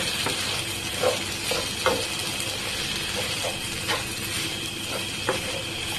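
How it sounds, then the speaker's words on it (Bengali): Okra and beaten egg fry in a pan with a steady, fairly close sizzle, and occasional soft spatula scrapes and clicks break through every second or so. "একটু ভেজে নেব।"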